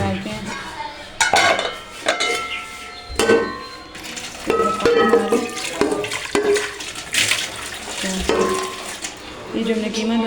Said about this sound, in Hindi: ये जो हमने कीमा धोया था वो डाल देंगे हांडी में अपनी में